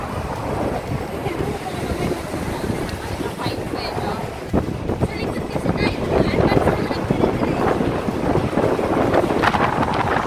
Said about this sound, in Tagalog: Mahangin po sa labas.